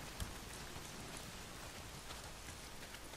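Heavy rain pours down in a video game, a faint, steady hiss of dense drops with no talking.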